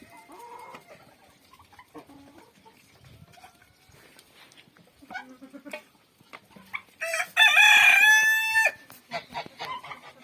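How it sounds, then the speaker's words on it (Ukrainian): Quiet clucking and scattered farmyard sounds among geese, turkeys and poultry lead up to a loud, close rooster crow near the end. "Це півник."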